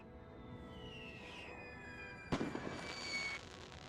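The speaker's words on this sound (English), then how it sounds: "While under artillery fire in some cases." Artillery fire in the video game Napoleon: Total War, set in a World War I scenario: a sharp boom at mid-clip over a steady battle din, after a falling whistling tone, with no talking.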